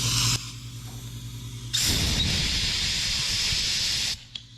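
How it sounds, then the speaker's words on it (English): Compressed air blows out the small oil holes of an engine: a loud, close, steady hiss that runs for about two seconds and then cuts off, with a shorter hiss from an earlier burst before it. "I'm gonna blow out all these little oil holes really good"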